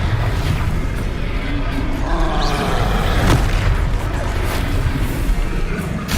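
A Confringo fire spell from Hogwarts Legacy bursts in a booming, crashing explosion amid dense, loud game noise, with a sharp blast rising near the middle.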